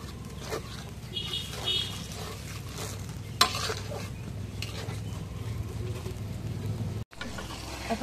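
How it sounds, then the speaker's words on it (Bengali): Ground ginger, cumin, garam masala and garlic pastes stirred as they fry in a pan: a soft continuous sizzle with scraping stir strokes and an occasional utensil clink, fairly close. "এখন নাড়া দিই।"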